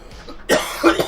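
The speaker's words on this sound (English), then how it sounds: "I can't continue to cough." A person coughs two or three times in quick succession, loud and close, with a short breathy lead-in before the harsher bursts.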